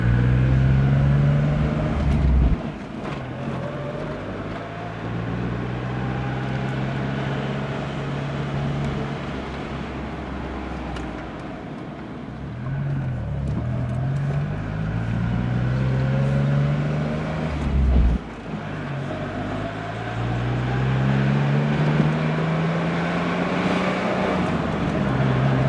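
Engine of a Geo car running steadily while driving, with rising and falling harmonic tones as it shifts through gears, loud and continuous with road rumble underneath.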